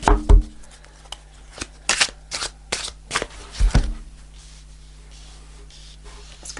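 Tarot cards being shuffled by hand, a run of crisp riffling bursts and slaps close to the mic over roughly four seconds, then quiet handling.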